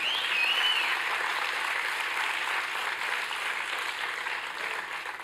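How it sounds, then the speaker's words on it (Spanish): A church audience claps during a Spanish-language Easter resurrection sermon, a dense, sustained round of applause that stays fairly even and eases slightly toward the end, with no talk over it. "Ahora sí aplauda, porque eso sí vale la pena"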